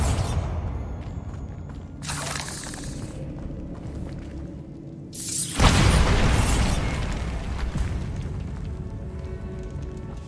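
A Bombarda blast spell going off in a decaying catacomb in Hogwarts Legacy, heard as a loud booming burst with a rumbling, debris-filled decay, set over steady game ambience and preceded by a smaller crash.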